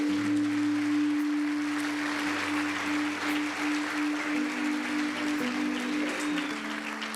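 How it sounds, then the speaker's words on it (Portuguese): A church congregation claps strongly during a revival service, a dense, sustained wash of applause over a steady held organ or keyboard tone, continuous and fairly loud throughout. "Vamos aplaudir bem forte ao Senhor."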